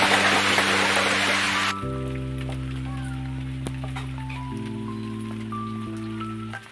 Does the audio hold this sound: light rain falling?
yes